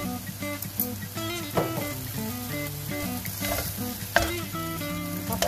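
Sliced cucumber and egg stir-fried in a pan with oyster sauce and seasoning, a steady sizzle with scraping stirs throughout, close and fairly loud beneath a musical background.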